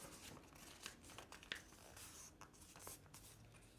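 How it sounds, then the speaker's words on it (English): A sheet of paper is folded into quarters, giving soft close crinkles and brushing rustles, with one sharper crease snap near the middle, all fairly quiet with no talk. "You fold it up in quarters"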